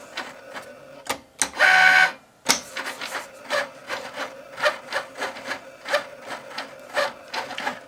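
A Cricut Mini machine cutting a card, giving a quick run of small rhythmic mechanical ticks and rubbing sounds, with one brief louder motor whir near the start.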